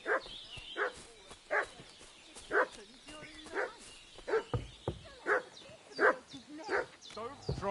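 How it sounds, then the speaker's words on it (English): A dog barks repeatedly in short, irregular bursts, mixed with whimpers and yips, fairly close and prominent, with brief quieter gaps between the barks. "What's that dog making such a fuss about?"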